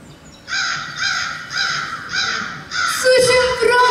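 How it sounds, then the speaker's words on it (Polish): A crow caws loudly and close, four or five harsh calls in a steady rhythm, with no voices over them. "Słyszę wronę!"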